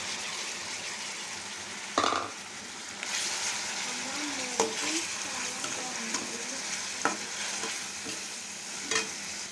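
Coriander and mint paste frying in a pan, a soft continuous sizzle with a few sharp scrapes and clinks of a spoon stirring, fairly quiet and close, no talking.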